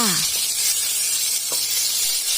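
Pork belly stir-frying in a hot pan for mixed vegetables, a loud, steady bright sizzle close up with a faint voice briefly underneath and a couple of small utensil scrapes.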